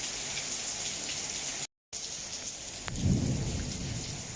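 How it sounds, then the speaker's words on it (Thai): Steady rain from a summer storm hissing throughout, with a deep rumble of thunder rolling in near the end; a brief dropout of silence interrupts midway. "ได้ยินเสียงฟ้าร้องไหมครับ"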